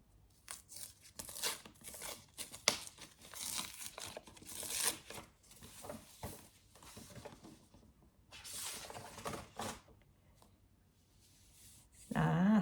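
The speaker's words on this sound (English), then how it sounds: "I think I am going to have to break the seal" Plastic shrink-wrap seal on a book being torn and peeled off, close-up crinkling and tearing in bursts over about twelve seconds, with a louder rustle at the end.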